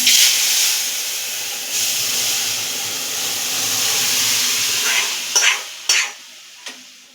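Lentils (dal) tipped into hot tempering with a bay leaf in a pan, giving a steady loud sizzling hiss with stirring scrapes and a few sharp bursts near the end, no talk.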